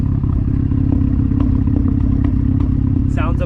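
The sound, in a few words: Mazdaspeed3 engine idling with exhaust popping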